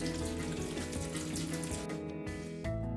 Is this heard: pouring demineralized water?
yes